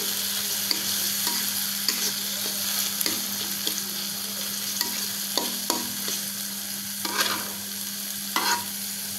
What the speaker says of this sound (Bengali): এখন এর মধ্যে দিয়ে দিব আমি একটা টমেটো কুচি।